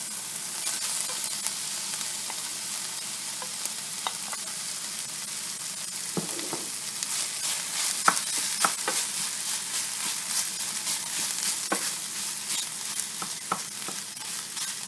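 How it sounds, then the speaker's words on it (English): Rice and vegetables are stirred in a hot pan, with a steady close sizzle of frying broken by scraping and clinking of the spoon against the pan. "And mix the vegetables into the rice."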